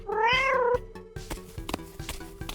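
A cat gives one clear, drawn-out meow, followed by quieter clicks and light music in the background.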